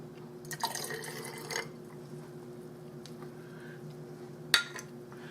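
Water poured from a quarter-cup measure into a quart jar holding tomato soup for a salad dressing, a short splashing pour of about a second, close by with no talk over it.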